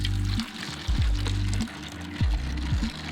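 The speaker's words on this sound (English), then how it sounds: "let's just pour all these in now and just add the water" Water poured into a Juice Master cold press juicer while making raw almond milk, heard as several heavy, gulping pours in close succession with short pauses between, near and fairly loud.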